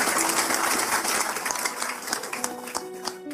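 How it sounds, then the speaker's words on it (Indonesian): An audience at a gathering applauds again on request, a brief spell of crowd clapping that tapers off, with a faint tonal sound emerging beneath as it fades. "Tepuk tangan sekali lagi ya."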